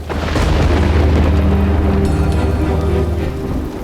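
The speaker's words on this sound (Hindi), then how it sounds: "ये तूफान हमें आगे बढ़ने नहीं देगा" A heavy storm roars steadily with dense rain and deep rumbling thunder, loud and continuous throughout with no talking.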